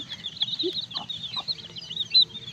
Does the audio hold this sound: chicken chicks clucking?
yes